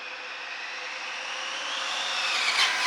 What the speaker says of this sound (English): we're going straight to the end and we're going to drag race to see who's going to win